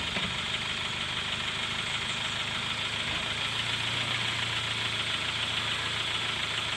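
A 2014-2016 Kia Soul, fresh from a transmission replacement, runs steadily in drive with a constant mid-pitched engine hum and faint vibration, close by and without talk.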